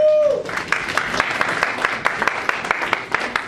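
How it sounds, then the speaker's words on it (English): A church audience applauds members seated at the front, steady sustained clapping with sharp individual hand claps standing out close by, all under a raised voice speaking over it. "Let's give them a round of applause,"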